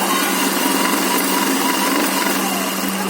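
Sewing machine running steadily as it double-stitches a pocket onto a pair of pants, a continuous loud mechanical whir with a constant hum and no pauses throughout.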